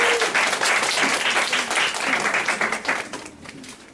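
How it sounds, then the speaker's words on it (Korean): Applause from a church worship congregation welcoming the pastor, a steady dense crowd clapping that holds for several seconds before thinning and fading toward the end. "박수로 환영하겠습니다"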